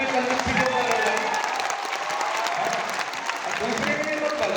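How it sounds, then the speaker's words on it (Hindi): A crowd claps continuously at a gathering, a dense even wash of applause with a faint murmur of voices mixed underneath and no clear breaks. "आप लोगों के लिए तो ताली बजवाई मैंने"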